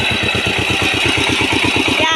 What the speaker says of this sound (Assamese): ট্ৰেক্টৰ